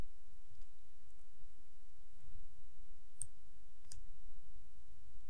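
A few sparse, sharp clicks from a computer mouse sound over a quiet, low room hum, spaced irregularly with a couple of clearer clicks toward the end.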